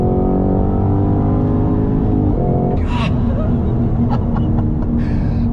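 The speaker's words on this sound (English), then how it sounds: "Being able to shift on throttle and go to the next gear so smooth" A 2022 Cadillac CT5-V Blackwing engine drones loudly under hard acceleration, then a gear shift breaks the steady tone before the revs build again, heard from inside the car with a brief gasp.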